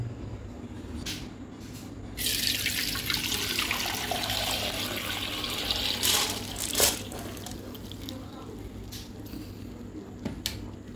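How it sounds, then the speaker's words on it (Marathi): A wet rush of water and soaked wheat pouring into a strainer, a steady splashing cascade lasting several seconds, followed by drips and small clatters. "आता हे आपण एका चाळणीमध्ये काढून घेऊ।"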